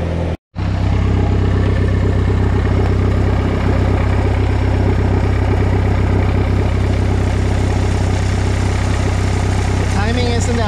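A Honda Civic's 500-horsepower turbocharged engine idles steadily and loudly while warming up, with a constant low rumble, briefly cutting out near the start.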